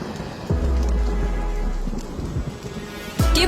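Heavy rain pours steadily while deep thunder rumbles close by, with two strong low booms rolling through the downpour.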